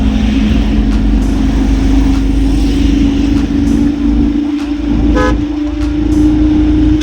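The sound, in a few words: loaded goods truck driving off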